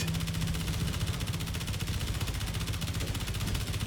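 Rapid, steady automatic gunfire in the Space Engineers game, a dense continuous rattle of closely spaced shots that runs loud and unbroken throughout, with no voices.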